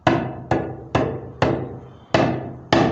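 Six sharp talking drum strikes with ringing decay, evenly spaced about half a second apart, close and loud, with no talking.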